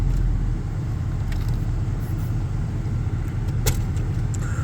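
A 1998 GMT400 pickup truck driving over road bumps in Dayton, Ohio, with a loud continuous low rumble of engine and road noise and scattered rattles and jangles as it jolts along.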